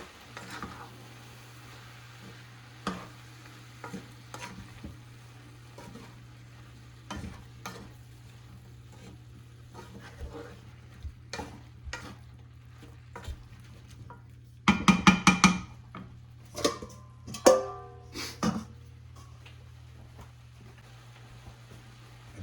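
Fresh herbs and chili flakes sizzle softly in a pan under a low steady hum, with scattered spoon taps and a louder burst of scraping stirs midway, no voices.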